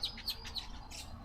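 A village weaver gives quick, sharp chirps in a short series, fairly close and clear against a quiet outdoor background.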